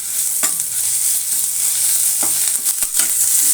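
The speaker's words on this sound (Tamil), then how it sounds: "ஒரே ஒரு ஏலக்காய், பட்டை கிராம்பு, இஞ்சி பூண்டு பேஸ்ட் கொஞ்சம். இது நல்லா வதக்கிக்கலாம்." Cardamom, cinnamon, cloves and ginger garlic paste sizzle loudly in a hot pan, with a steady frying hiss and occasional scrapes of a stirring spoon, heard close with no talk.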